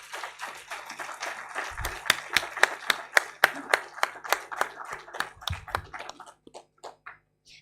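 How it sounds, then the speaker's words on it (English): Applause from a small audience at a hospital event, a sparse group of people clapping unevenly, fairly close, swelling and then tapering off into a few last claps. "Can we have a huge round of applause"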